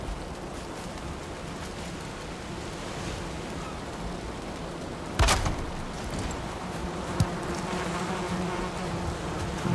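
Bees buzz around beehives in the video game Valheim, a soft, continuous hum with a few brief sharp clicks and no talking.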